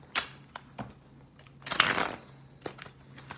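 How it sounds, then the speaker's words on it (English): A deck of tarot cards is shuffled by hand in short riffling bursts and crisp slaps, with a longer rustling shuffle in the middle, close and alone over a faint steady hum. "Oh, cards don't want to shuffle"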